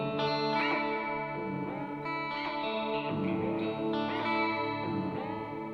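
An electric guitar plays through a modulation pedal set to a square-wave shape, sustained chords with choppy, bleeping warble and heavy effects, loud and without talking.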